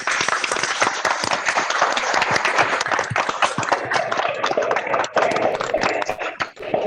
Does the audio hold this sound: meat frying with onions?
no